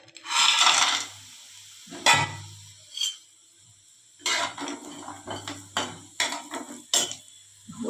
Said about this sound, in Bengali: এবার বড়িটা আমরা ভেজে নেব।